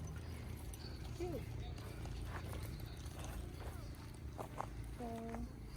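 Hooves of a horse walking on a Polish mountain hiking trail clip-clop faintly and unevenly beneath steady outdoor background noise, with a brief whinny-like call near the end.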